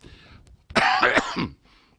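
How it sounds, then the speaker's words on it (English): A single burst of harsh, raspy coughing up close during a council cabinet meeting, with a few hacking pulses in quick succession, set between quiet stretches. "I have no voice and a persistent cough"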